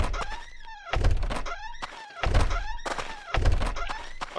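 Doors opening in a video game: a series of heavy thunks, each followed by a scraping, creaking swing, repeating about four times in a steady rhythm, loud and close with no talking.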